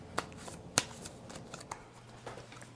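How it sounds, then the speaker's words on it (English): A deck of tarot cards is shuffled by hand close up, giving soft riffling and sharp snaps, with a few crisp card slaps standing out over a low room hum. "I feel like I'm done shuffling."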